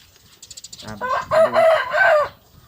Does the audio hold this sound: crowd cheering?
no